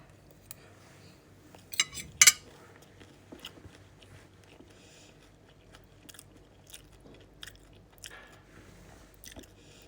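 Chicken being eaten with a spoon, with soft biting and chewing noises, a few sharper crunches and faint clinks of cutlery on a dish close to the mic. The sounds come in scattered bursts with quiet stretches between them.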